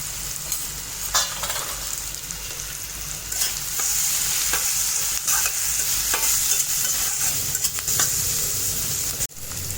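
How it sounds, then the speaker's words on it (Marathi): Tomatoes with coriander powder being sautéed in a pan, a steady close sizzle with scraping stirs of a spoon throughout, briefly dropping out near the end. "नरम होईपर्यंत टोमॅटो चांगला परतून घेते आणि धना पावडर"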